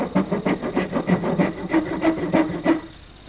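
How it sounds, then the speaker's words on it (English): A dovetail saw cuts a shallow recess into square wooden stock, about 1 5/16 inch across, with quick, regular back-and-forth rasping strokes close by, about three to four per second, then stopping. "I'm going to use my dovetail saw just to cut a slight recess."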